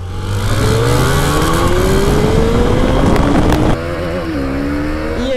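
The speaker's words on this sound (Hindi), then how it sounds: "एक बार फिर से ड्रैग रेस करते हैं" Suzuki Hayabusa and KTM Duke 390 motorcycles drag racing, loud close engines screaming up through the revs with rising pitch and a sudden gear shift before pulling on again, with no talking.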